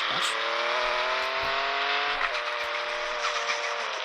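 A BMW M8 drives in the mobile game Car Parking Multiplayer, its synthetic engine holding a steady, rising tone with a brief dip partway through, close and fairly loud.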